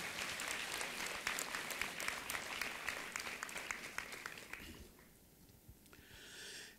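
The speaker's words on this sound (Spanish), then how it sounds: "Otra vez un aplauso." Applause from the audience at an international workshop on yoga and Vedic culture at Dev Sanskriti University in Haridwar, a dense round of clapping that fades out after about five seconds into quieter room noise.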